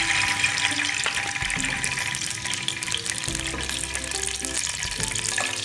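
Onions and potatoes fry in ghee in a pan, giving a steady, close hiss with faint lower bubbling. It continues evenly throughout and nobody speaks.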